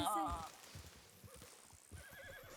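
A horse in a Western video game lets out a loud, shrill whinny right at the start. Quieter hoof clops and game sounds follow, with a voice talking underneath.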